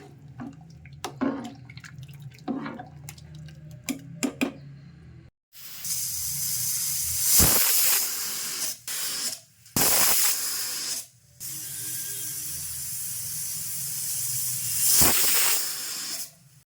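Bursts of loud steam hissing from a pressure cooker cooking dal, several long sprays after quieter clinks and knocks, close and harsh.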